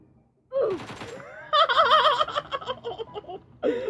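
Rapid gunfire in a shooter video game, loud bursts of clustered shots starting about half a second in and continuing with brief gaps, joined by other sharp game effects.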